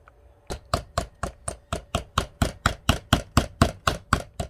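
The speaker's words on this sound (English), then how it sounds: "I'm just going to take a hammer and just hammer it down" A hammer drives metal tacks into a Dollar Tree craft pumpkin, a run of about sixteen sharp, evenly spaced knocks, close and loud, in a steady rhythm after a brief quiet start.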